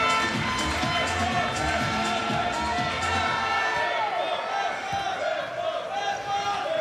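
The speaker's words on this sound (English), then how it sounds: "The home crowd getting into this one." Home crowd at a France versus Canada men's wheelchair basketball game in an indoor arena, a sustained roar of cheering and shouting kept up throughout, with a commentator talking over it.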